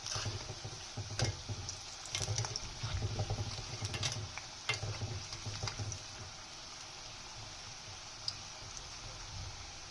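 Pakoras sizzling gently in a pan of oil for a kadhi curry, a faint steady crackle with occasional soft scrapes and clinks as the fritters are turned over.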